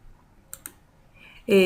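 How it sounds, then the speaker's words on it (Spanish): A computer mouse on a Windows 7 PC gives two quick, close clicks, like a right-click, in near silence before a voice begins. "Y también tenemos un clic derecho, como este"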